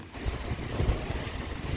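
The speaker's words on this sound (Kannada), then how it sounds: "ಮಳೆ ಬರೋಕೆ ಈ ಗಾಳಿ ಬೆಳಕು ಜೋರು ಗಾಳಿ ಬರುತ್ತಲ್ಲ" Strong gusting wind sweeps past outdoors ahead of an approaching rainstorm, a steady broadband rush with low buffeting thumps against the microphone throughout, no voices.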